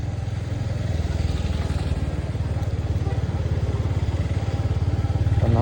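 A motorcycle engine runs steadily nearby as the bike is ridden, a low rhythmic thrumming pulse that holds fairly loud and even, with slight clatter and a faint rise in revs near the end.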